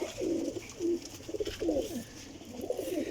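Pigeons coo in repeated soft, throaty bursts close by, with quiet pauses in between and no talking.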